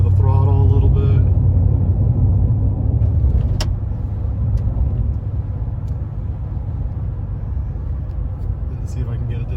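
A 2021 Chevy Silverado pickup with a 6.2 V8, 10-speed transmission and muffler delete rumbles steadily from the exhaust, with low engine drone holding throughout at moderate loudness and a brief click partway through.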